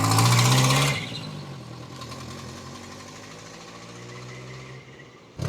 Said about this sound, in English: If it wasn't for that really badly leaking exhaust manifold, it would be quite a nice drive